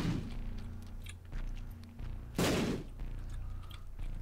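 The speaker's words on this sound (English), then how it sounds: "I don't mind wasting my bombs for this." A bomb goes off in The Binding of Isaac: Rebirth, one loud, booming burst at the midpoint over the game's ongoing background music, with no voice.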